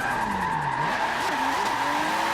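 Car sliding sideways in a tandem drift in Forza 7, a steady loud tire squeal with a wavering pitched engine whine running continuously throughout, alone without talk.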